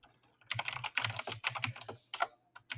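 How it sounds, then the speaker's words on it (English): Rapid keystrokes on a computer keyboard, typed in uneven bursts with short pauses, close and fairly clear with no talking over them. "He is typing for those who are listening."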